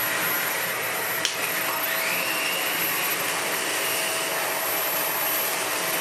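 An old Dyson DC15 upright vacuum cleaner runs close by with a steady, loud, even whirring roar, broken only by one brief click.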